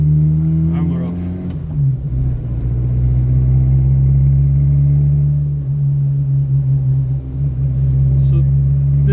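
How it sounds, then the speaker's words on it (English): A car's loud exhaust drones steadily as it pulls away from a roundabout during a road test, a continuous deep rumble with a slight rise in revs early on, recorded close from inside the moving car. "So this exhaust isn't loud. I mean, it is loud, but it's not blowing."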